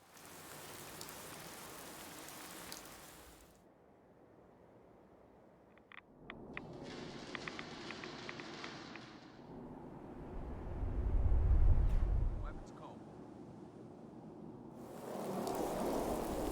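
A rainstorm from the True Storms mod for Fallout 4 pours steadily and shifts in intensity. A heavy, low thunder rumble swells near the end before the rain carries on.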